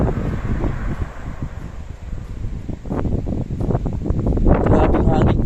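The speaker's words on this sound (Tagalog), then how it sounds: "Grabe yung hangin" Strong gusts from Typhoon Ada roar in a rural Philippine province, buffeting the microphone with continuous low rumbling that swells louder toward the end, with rustling leaves mixed in.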